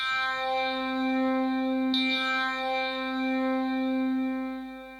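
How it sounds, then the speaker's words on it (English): Steady stack of pure synthesized sine tones at frequencies following a Fibonacci sequence, a shimmering harmonic chord sustained evenly for about five seconds with one brief click near the middle. "A series of sine waves whose frequencies follow a Fibonacci sequence"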